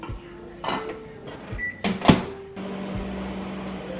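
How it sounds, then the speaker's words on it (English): A microwave oven heating soup hums steadily after a few clicks and a door thud, with a short electronic beep as it starts running. "I think I'm just gonna microwave it instead of doing it on the stovetop."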